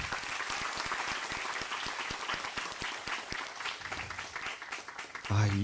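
Applause fills a talk concert on climate and environment leadership, dense steady clapping from a seated audience running throughout, with a voice coming in near the end.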